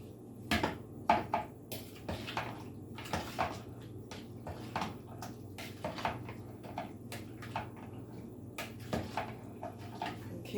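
A spoon scrapes and knocks against a pan while chicken quesadilla filling is stirred, giving a steady run of sharp clinks and taps close by over a low kitchen hum.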